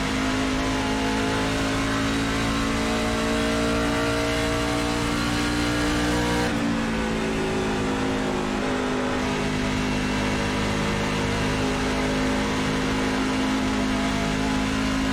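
A NASCAR truck engine in the iRacing sim racing game drones loudly at high revs for the whole stretch, with a brief dip and wavering pitch partway through before it climbs and holds steady again.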